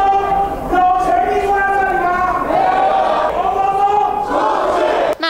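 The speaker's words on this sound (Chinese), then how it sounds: "双方更是一同高喊口号" Legislators in a parliament chamber chant slogans in unison, loud and close. Their voices form a dense, rhythmic roar of shouting that holds for several seconds.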